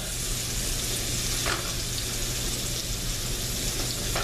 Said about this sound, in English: you want to get these onions good and like caramelized in this here bacon grease